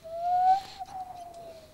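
A human voice imitates a midnight owl's hoot, giving one clear, breathy whistled tone that slides and fades over under two seconds.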